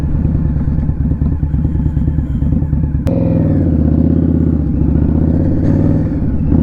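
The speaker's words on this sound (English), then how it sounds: "So I'm just going to pull over a sec, let this car go round." Idling motorcycle, an Indian Scout Bobber, pulled over at the roadside, its steady loud engine rumble running throughout while a car passes close by, with a sharp shift in the engine tone about midway.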